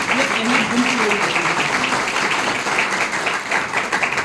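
A crowd gives loud applause for Mahaguru ji, a continuous dense clatter of clapping with a voice heard over it near the start.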